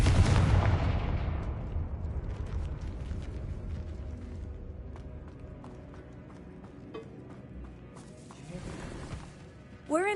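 A Confringo explosion spell in the video game Hogwarts Legacy, a loud booming blast at the start that rumbles and fades over several seconds, with a sharp crack near the end.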